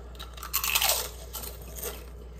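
A tortilla chip bitten and crunched during a hot sauce challenge, a few sharp close crunches with chewing over a steady low hum.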